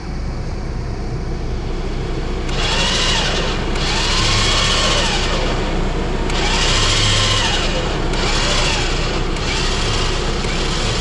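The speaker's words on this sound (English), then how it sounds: "Get your on off switch here. The winch." A newly installed winch on a 2021 Chevy Colorado ZR2 Bison is bumped in a few short bursts, each a rising and falling motor whine over a constant low rumble.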